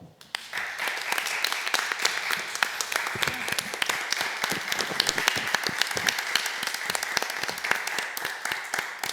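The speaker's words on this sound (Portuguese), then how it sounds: "Peço a todos uma salva de palmas ao Pavilhão Nacional." Sustained applause from an audience at a senior citizens' chamber session, dense steady clapping filling the room from start to finish, with no speech.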